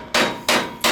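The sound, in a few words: hammering rivets out of a Chevy C10 frame bracket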